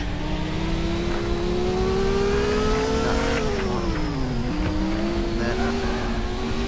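Race car engine in the Speed Dreams racing game: a loud, continuous droning whine that rises in pitch under acceleration, briefly dips as it shifts down, then climbs again, with no speech.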